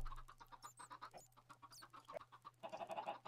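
Several video game chickens cluck and squawk in quick, uneven bursts, fairly close, with a steady low hum underneath.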